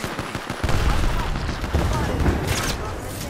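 Grenade blast and rapid gunfire in a first-person shooter game, loud dense crackling bursts and booms layered over each other, close and continuous throughout.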